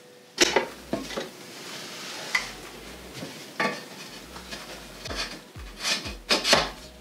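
Metal sawhorse brackets are fixed with 1.5-inch screws onto the top of homemade wooden ladders, giving a series of scraping, knocking and rattling handling sounds in irregular bursts, close and moderately loud, with no talking.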